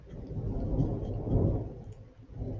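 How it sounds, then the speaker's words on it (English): Distant thunder rumbles low and continuous, swelling and fading in a couple of broad waves with a faint patter of rain behind it. "Oh, that's thunder."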